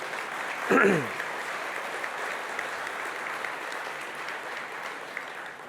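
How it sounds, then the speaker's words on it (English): An audience at a charity and funders keynote event gives a round of applause, a soft, even wash of clapping in a large room after a brief louder burst at the start. "let's give a round of applause"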